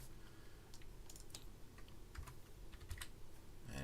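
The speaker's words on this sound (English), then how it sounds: "Gotta type correctly." Rapid typing on a computer keyboard while setting up a multiplayer match in a fan-server game tournament, with uneven clusters of sharp key clicks throughout, close and fairly quiet over a low background hum.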